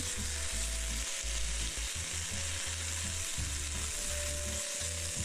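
Minced meat frying in a pan for tomato and onion wraps, a dense, continuous sizzle with low scraping thumps as the meat is stirred, close up and steady with no voices.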